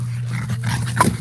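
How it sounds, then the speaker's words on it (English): Dogs barking and yipping outdoors near a morning campfire, a few excited barks over a steady low hum. "and they'll go crazy. Let them bark for a little bit"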